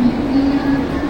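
A Mumbai local train runs steadily, its low rumble and hum close and continuous with a faint high whine above, no talk.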